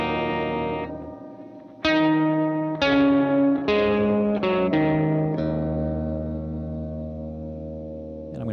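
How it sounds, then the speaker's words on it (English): Guitar through a Gamechanger Audio effects pedal in harmonic mode, sustained chords with bright upper-order harmonics, each new strum entering sharply and ringing out long and loud with no talk. "you're going to access different harmonics for it in this mode and get kind of like these upper order harmonics that are really cool"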